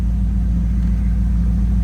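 A 2002 Chevrolet Corvette Z06 V8 rumbles loudly and steadily through a Borla exhaust, a deep, close idle with a continuous low throb and no speech.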